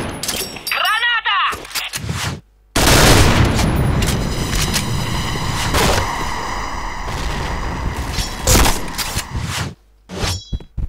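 An explosion rips through a Point Blank shooter match, a loud blast with dense crackling debris followed by a burst of gunfire and sharp metallic clangs, with brief pauses of near silence between the bursts.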